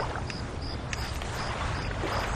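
A motorboat engine runs steadily on open water while someone learns to steer the boat, a continuous broadband drone with water rush and no talk over it.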